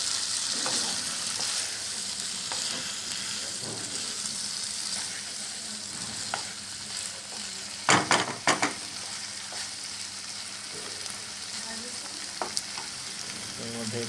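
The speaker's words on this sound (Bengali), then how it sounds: "এবার মাছের সাথে শেফ অনিন্দ আলু, টমেটো, পেঁয়াজ, রসুন সব কিছু মিশিয়ে এখন নাড়ছেন।" Dried pomfret, potato, tomato, onion and garlic sizzle steadily in a pan as they are stirred, a continuous close frying hiss with a few scraping clatters of the utensil partway through.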